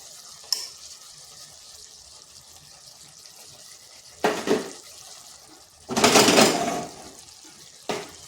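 Bottle gourd mixed with rice flour and stirred in a pan, mostly a quiet low hiss broken by a few separate bursts of wet scraping and splashing, the longest in the middle, no talk.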